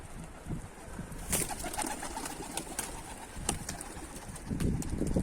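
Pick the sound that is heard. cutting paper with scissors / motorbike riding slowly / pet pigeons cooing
pet pigeons cooing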